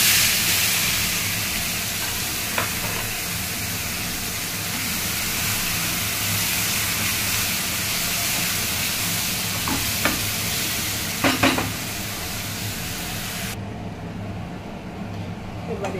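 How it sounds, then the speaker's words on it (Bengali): A spice paste stirred and fried in oil with black cumin seeds for a pomfret fish curry, giving a continuous loud sizzle with a few scraping stirs near the end. "পেস্টটা কিছুক্ষণ একটুখানি এই মশলাটা একটু নাড়াচাড়া করে কষিয়ে নিই"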